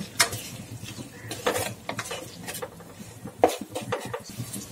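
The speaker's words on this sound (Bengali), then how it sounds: "মশলাটা কষিয়ে নেব" Salt, turmeric and red chili powder sizzling as they are sautéed with potatoes in a pan, with a steady fry under repeated scraping and clinking stirs of a spoon against the metal.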